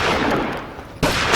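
Loud, close gunfire in a sharp burst, a sustained harsh blast that fades briefly and then a second abrupt shot cracking in near the end.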